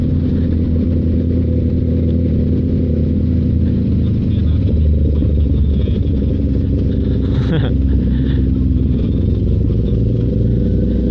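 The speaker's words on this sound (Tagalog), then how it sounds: "Di ko lang alam kung rinig sa camera, pero ang pogi ng tunog niyan kahit twin cylinder lang yan." 650cc twin-cylinder motorcycle idling and running nearby with a steady, throbbing low rumble and mechanical clatter, with talk over it and a brief passing sound partway through.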